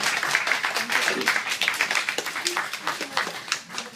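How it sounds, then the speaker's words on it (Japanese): An audience at a small live music show claps together for a departing performer, a dense patter of applause that thins out toward the end. "拍手をお願いします。"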